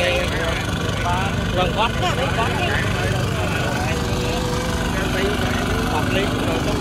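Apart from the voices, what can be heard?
Kubota tractor engine idling in a rice field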